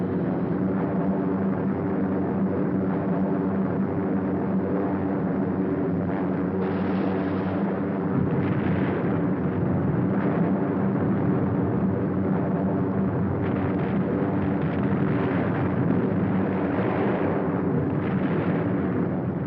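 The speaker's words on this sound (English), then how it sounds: "the second task force comes over the target. Bombs away." Bombs dropped by a bomber task force exploding on the target, heard as a continuous heavy rumble of blasts and aircraft drone, loud and sustained with no clear gaps.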